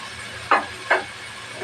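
Ginger-garlic paste frying in mustard oil for a spicy chicken curry: a steady soft sizzling hiss, broken by two short, louder spattering bursts close together.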